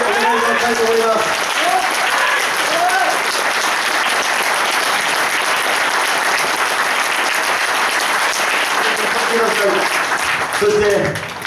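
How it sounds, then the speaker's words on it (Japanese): Loud, sustained applause from a large crowd greets LDP presidential candidate Ishiba Shigeru at a campaign kickoff rally in Yokosuka, with cheering voices mixed into the steady clapping throughout. "盛大な拍手でお願いしたいと思います。"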